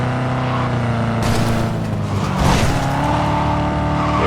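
A car driving in the video game Cyberpunk 2077, a loud steady engine drone with layered low hum, a brief swell and whoosh midway as if passing or accelerating, then settling back into a constant rumble.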